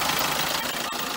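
A Vauxhall Astra 1.3 CDTi Ecoflex diesel engine idles with a close, steady and loud rumble, heard with the bonnet up.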